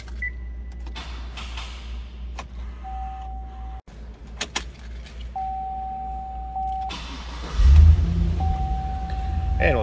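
A 2005 Chevrolet SSR being started: key chimes and beeps from the cabin, a brief crank, then the engine catching with a deep rumble toward the end, close and loud.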